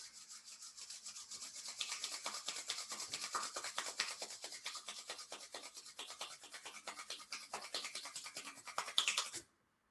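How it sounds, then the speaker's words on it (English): Palms rubbing together in a steady back-and-forth, a continuous close dry friction rasp lasting about nine seconds and then stopping abruptly, with no talk. "Put your palms together and rub your hands."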